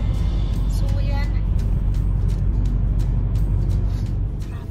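Friday night road traffic in heavy congestion, a continuous close rumble of car engines with faint intermittent ticking, and people talking over it.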